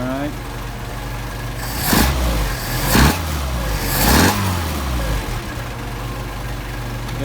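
A Mercedes 190SL engine on Solex 44PHH carburetors runs steadily close by, with three distinct throttle blips that rev up and settle back to idle.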